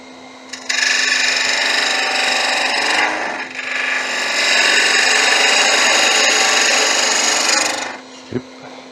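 A lathe spins up and wood is turned for a wand, making a loud continuous scraping hiss that dips briefly near the middle, then stops, followed by a short knock.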